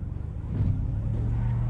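A car driving in a multiplayer video game gives off a steady low engine drone that swells after a brief quieter start and holds at an even level to the end, with no talk over it.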